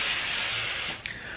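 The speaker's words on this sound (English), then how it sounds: "spray the parchment paper with oil spray" Oil cooking spray is sprayed onto parchment paper laid on a baking sheet: one close, steady hiss lasting about a second, then a short second burst.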